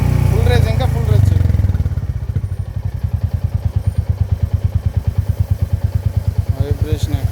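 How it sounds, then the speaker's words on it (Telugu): A Royal Enfield Classic 350 BS6 motorcycle engine runs with a rapid, evenly spaced thumping beat that settles into a steady rhythm. Someone talks briefly over a louder burst at the start. "అసలు BS6 engine royal Enfield classic 350 ఎక్కడ కూడా వైబ్రేషన్"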